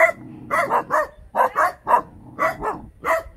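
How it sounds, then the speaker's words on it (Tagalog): Several dogs bark in quick repeated bursts, fairly close and loud, with short gaps between volleys. "Ayan po yung mga aso. Natahulan po nila ako."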